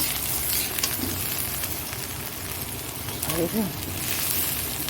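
Okra fries in a pan with a continuous soft sizzle and crackle, and a voice breaks in briefly partway through.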